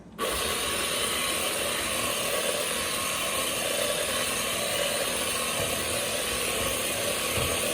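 A stand mixer starts up abruptly and runs at a steady, low speed through cake mix, giving a continuous close whirring hum with no speech.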